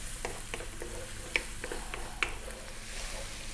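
Beef and broccoli stir-fry over high heat gives a steady sizzle, with rhythmic scrapes of the utensil against the pan and a couple of sharper clinks.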